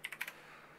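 Quick burst of four keystrokes on a computer keyboard, close and crisp, then quiet room tone; no talking.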